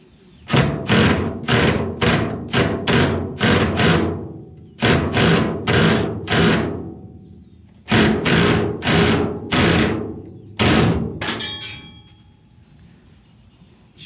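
A power ratchet drives a bolt into a truck camper hold-down on a Chevy Silverado in loud, rapid bursts of clattering impacts, four runs separated by short pauses, close and alone.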